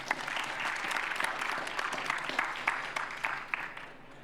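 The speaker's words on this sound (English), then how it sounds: "a round of applause for everybody" Applause from an audience at a hydrogen venture startup showcase in Edmonton, a moderate steady clapping that holds throughout and thins slightly toward the end, heard from a little distance.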